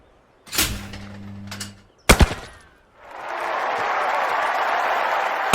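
Shotgun shots at a clay shooting station in the London 2012 Olympic video game: two loud, sharp blasts spaced apart, each with a ringing tail, followed by a swelling burst of crowd applause.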